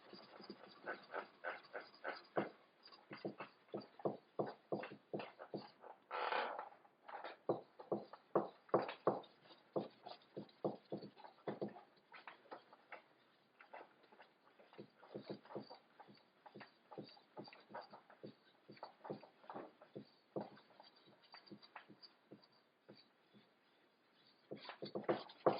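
Steel wool scrubs rust off an axe blade in quick, rhythmic rasping strokes, close and fairly quiet, with a brief denser burst partway through and no talking.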